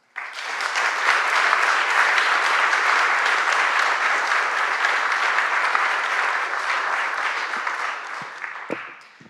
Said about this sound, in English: but they deserve the same applause